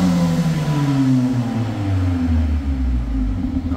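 A warmed-up Mercedes-Benz A45 AMG 4MATIC with its 360 bhp 2.0-litre engine running in comfort mode, a loud, close, deep rumbling drone that sweeps slowly in pitch as revs shift, with no talk over it.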